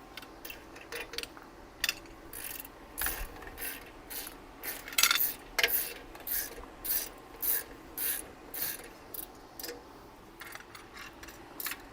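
Ratchet tightening a bolt on a damaged 72V 3000W Magician Alpha electric bike wheel during a rebuild, heard as a series of short, evenly paced raspy clicking strokes close by, repeating steadily with a brief pause near the end.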